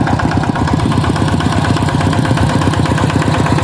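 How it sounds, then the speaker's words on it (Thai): A loud plowing tractor engine chugs steadily at a low, even idle in a rice field, running continuously and close by without pause. "คนมาติดรถไถให้เนาะ"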